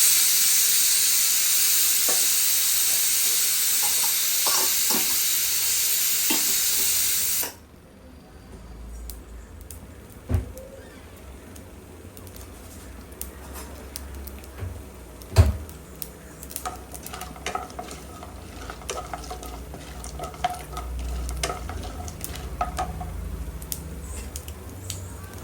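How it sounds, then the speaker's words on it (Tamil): Mustard seeds hit hot oil for a dried-fish curry with a loud, steady hiss that cuts off abruptly, followed by scattered crackles and sharp pops of the seeds spluttering in the pan. "கடுகு பொரிஞ்சிருச்சு"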